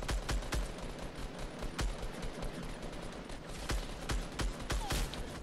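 Dense, continuous gunfire in the battle royale game Fortnite, with many overlapping shots cracking through a busy, noisy fight for several seconds and no clear speech.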